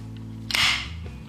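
An antique gun mechanism snapped open, a single sharp metallic click-clack over a low steady hum, close and brief.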